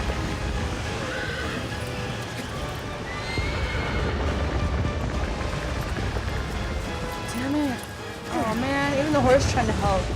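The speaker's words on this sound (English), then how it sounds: "The horse trying to help." Horse whinnies and neighs in the video game Shadow of the Colossus, a few rising and falling calls near the end, heard over steady game ambience and a person talking throughout.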